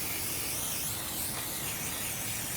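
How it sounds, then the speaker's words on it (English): Brake cleaner sprayed onto a new rear brake rotor of a Volvo XC: a steady, close hiss of aerosol spray that runs continuously without pause or voices. "wash it like this with a brake cleaner on one side and on the other as well"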